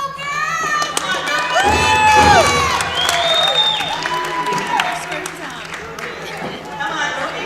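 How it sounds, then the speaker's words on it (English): At an Akicita honoring gathering, a group of girls cheers amid a crowd, with high excited shouts and calls rising over applause and chatter, loudest early on and then continuing at a lively level. "let's do a cheer. Let's go, girls!"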